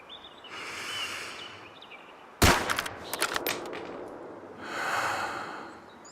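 A single sharp rifle shot in the hunting video game Way of the Hunter 2, a loud crack followed by a rolling echo, set among quiet breathing-like ambience with no talk.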